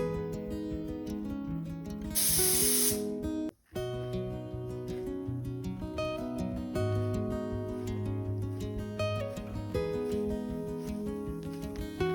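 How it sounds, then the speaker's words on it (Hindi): A short burst of loud, hissing steam from a pressure cooker whistle while soup cooks, lasting under a second over continuous background music. "सूप जो हमने बनने रखा था कुकर में उसमें सीटी आने लग गई है"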